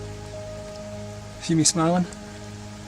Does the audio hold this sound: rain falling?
yes